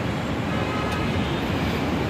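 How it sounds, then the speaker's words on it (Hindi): A steady, dense rumble of a Delhi metro train rolling past nearby, continuous and fairly loud with no pauses. "ट्रेन जा रहा है हाँ जा रहा है ये मेट्रो"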